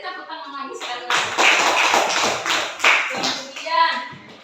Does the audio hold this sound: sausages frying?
no